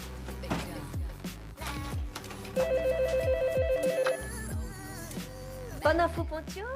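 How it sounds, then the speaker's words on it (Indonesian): A telephone rings as a call is placed, a rapid electronic trill lasting about a second and a half amid a busy soundtrack of music and effects, with speech around it. "nomor telepon istri Pascal, lalu langsung menghubunginya."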